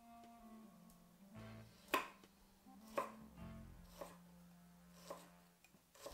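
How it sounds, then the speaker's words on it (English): A knife chops garlic thinly on a cutting board for Spanish garlic soup, giving sharp, separate taps about once a second, close and clear, over a quiet kitchen hum. "Start by chopping the garlic thinly."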